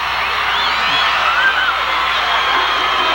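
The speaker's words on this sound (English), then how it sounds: "the crowd is starting to come alive and getting into this game" A high school basketball crowd cheers steadily, a dense wash of shouting and whooping voices in a gym that holds at a constant level throughout.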